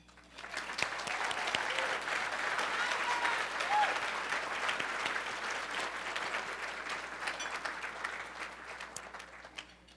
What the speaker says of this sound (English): right now, give Maya a round of applause.